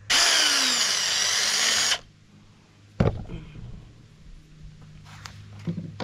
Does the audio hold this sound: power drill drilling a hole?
yes